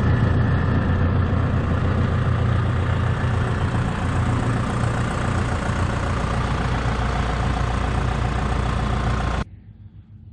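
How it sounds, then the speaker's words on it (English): A mower engine runs loud and steady while cutting a clover food plot, with a constant low rumble and mechanical drone that cuts off abruptly near the end, leaving faint background noise. "But we're gonna give it a quick mow."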